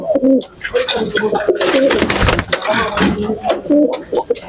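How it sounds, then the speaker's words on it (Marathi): Soft, low pigeon coos repeat in short phrases, close by, with rustling and other faint noises in between. "एक राख्यामध्ये कबूतर दाखवतो"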